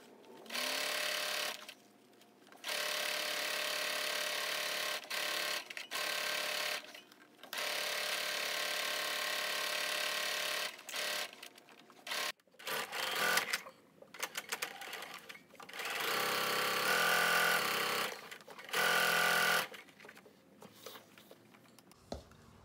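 Sewing machine stitching two fabric pieces together, right sides facing, for a peekaboo tote bag; loud bursts of steady motor whir start and stop repeatedly with short pauses between runs.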